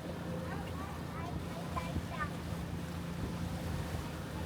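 Low engine drone and rushing water from a water bus under way on a canal in Venice, with wind buffeting the microphone and faint voices in the background.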